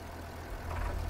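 A tractor engine idles in Farming Simulator 22, a brief low, steady rumble that grows slightly louder toward the end.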